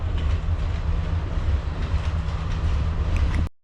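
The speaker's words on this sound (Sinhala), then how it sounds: "අපි මෙතන කෝච්චිය යන්නේ" A train runs past on a railway near Nuwara Eliya, a loud steady rumble with low rolling wheel noise and faint clicks, close and continuous until it cuts off abruptly at the end.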